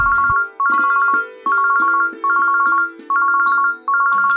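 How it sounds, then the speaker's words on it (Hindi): A mobile phone rings loudly and close for an incoming call, its melodic ringtone repeating in short bursts with brief gaps between phrases. "बाबा का फोन है।"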